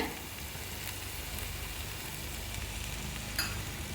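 Tomato frying in a pan for a spicy Kubaeran chicken dish, giving a steady, even sizzle that holds at moderate loudness without a break and has no voices over it.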